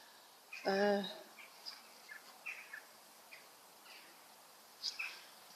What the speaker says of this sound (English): I think I'm disturbing a few birds around here as well.